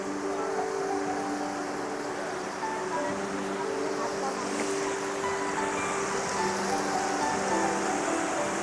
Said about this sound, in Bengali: কি স্রোত দেখুন জলের